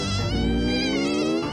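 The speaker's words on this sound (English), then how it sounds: "It's a mosquito!" A loud, steady mosquito buzz with a high whining tone that wavers slightly in pitch, droning continuously and close by.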